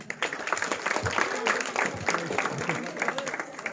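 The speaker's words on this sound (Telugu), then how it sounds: "అందరు చప్పట్లు కొడదాం." An audience bursting into applause at a gathering where gifts are handed out, a dense, fairly loud patter of many hands clapping for a few seconds, with voices talking over it.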